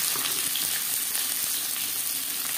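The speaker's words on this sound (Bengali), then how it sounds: "সরষের তেল গরম করে নিয়েছি, আপনারা চাইলে রিফাইন্ড অয়েলও করতে পারেন। এবার দিয়ে দেব পেঁয়াজ কুচি।" Chopped onions frying in hot mustard oil make a soft, even, continuous sizzle with faint crackles, steady from start to finish and with no talking.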